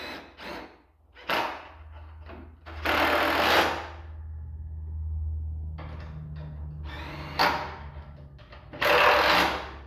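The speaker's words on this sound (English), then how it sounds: "Now you need your impact wrench. It's going to be 1/2 inch." A 1/2 inch impact wrench tightening bolts while a Ferris 52" ICD+ mower chute blocker is installed, in several loud bursts of rattling hammering separated by pauses, with a low mechanical hum underneath.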